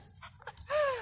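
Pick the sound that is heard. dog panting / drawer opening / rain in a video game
dog panting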